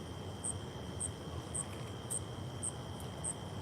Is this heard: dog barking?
no